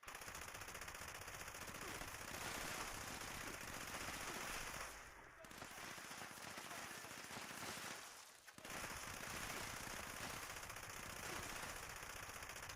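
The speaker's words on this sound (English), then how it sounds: "just for kicks, let's try the MG here." Sustained automatic gunfire from a machine gun in the video game Fallout 76, dense rapid bursts running loud and continuous with two brief dips in intensity.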